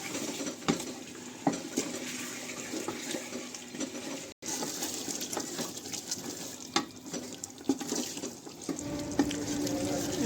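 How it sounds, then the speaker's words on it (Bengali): Water is poured from a tap or vessel into a pot of cooking chicken kabsa, a soft continuous splashing and trickle with occasional clinks of utensils in a quiet kitchen setting. "এবার আমরা কিছুটা জল অ্যাড করে দেবো"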